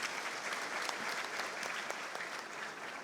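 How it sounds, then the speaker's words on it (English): Steady applause from a conference audience, dense clapping held at an even level for a few seconds with no voices over it. "Could you all please give him another round of applause?"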